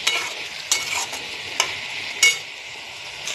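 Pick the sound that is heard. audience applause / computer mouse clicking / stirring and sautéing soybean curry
stirring and sautéing soybean curry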